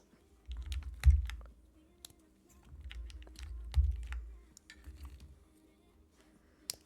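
Keys clack on a Meletrix Zoom64 mechanical keyboard with tactile switches, close and fairly quiet, in irregular short bursts of typing separated by brief pauses.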